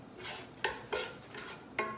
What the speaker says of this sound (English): We're just gonna kind of saute that just a little bit.